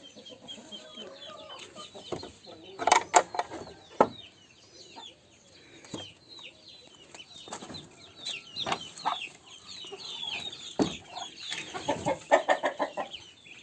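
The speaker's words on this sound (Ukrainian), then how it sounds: "йдемо випускати курей з хліва. Чуєте, кричать зараз." Chickens in a barn cluck and squawk in a lively, overlapping chorus close by, with bursts of louder cackling standing out from the steady background chatter.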